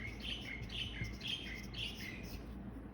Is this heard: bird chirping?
yes